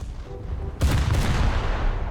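Battleship main guns firing in War Thunder naval combat: a sudden heavy cannon blast breaks over quieter low rumble and rolls into a long, loud booming reverberation with no talk.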